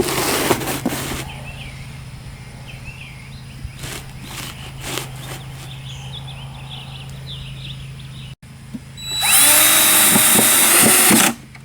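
A power drill drives 1.5-inch pocket jig screws into soft plywood for a cubby shelf, with short whirring bursts early on, then a louder sustained high-pitched run near the end.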